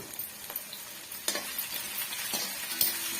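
Onions sautéing in a pan for a wedding-style potato stir-fry, a steady close sizzle with a few sharp scraping stirs of the spoon against the pan, no voices.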